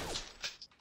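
A shotgun being reloaded in the VR shooter Gun Club VR, heard as a short run of mechanical clicks and creaks, with two or three quick metallic actions close up in under a second.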